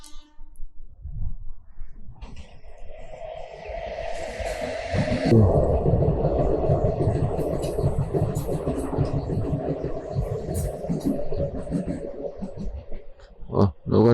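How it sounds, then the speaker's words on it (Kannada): A local train at a station in Andhra makes a rumbling, droning clatter that builds and holds at moderate loudness, with sharp knocks near the end. "Local train."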